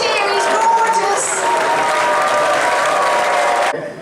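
A convention ceremony audience cheers and applauds loudly for Saxon the wolf dog, a dense burst of clapping and whoops that holds steady for a few seconds before cutting off.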